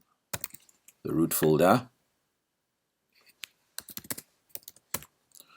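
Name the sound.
typing a shell command on a computer keyboard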